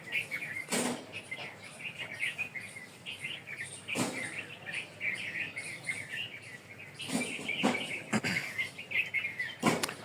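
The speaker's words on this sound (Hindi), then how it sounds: "परिंदों की आवाज़ें सुनाई दे रही होंगी माशाल्लाह।" Birds sing outdoors on a pleasant day, with a steady stream of high chirps and tweets plus a few sharper calls, heard at moderate distance over a quiet background.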